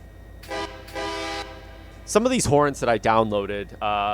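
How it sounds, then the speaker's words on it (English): Two sustained chime-like blasts of a K3LA4 locomotive horn in the Run8 Train Simulator game, each about a second long, loud and steady, followed by someone talking over the end. "What horn is this that we currently have for this train?"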